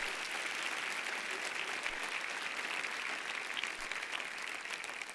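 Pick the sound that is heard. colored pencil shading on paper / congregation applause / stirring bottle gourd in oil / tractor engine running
congregation applause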